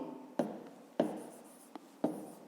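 Pen strokes on paper while working a fifth-grade maths exercise, four short scratchy bursts spaced about half a second apart, close and fairly quiet with no talk.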